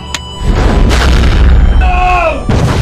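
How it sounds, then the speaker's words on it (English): A heavy volley of guns fires, a loud rolling boom that fills the clip, with a sharp crack at the start and a rumbling, crashing tail. "All guns, fire."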